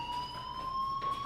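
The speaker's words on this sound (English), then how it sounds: "do you hear that fire alarm?" A fire alarm rings steadily in the Life is Strange game, its tones held without a break for the whole moment. The sound is moderately loud and nearby, and no one speaks over it.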